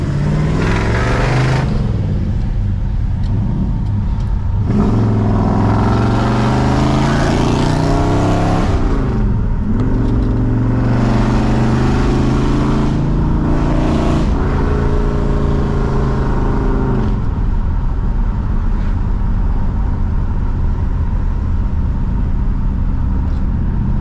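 A 1965 Chevrolet Malibu SS with a 283 V8 accelerates on the road, its engine note climbing through several gear shifts, loud and close, before settling into a steady cruising drone with no talking.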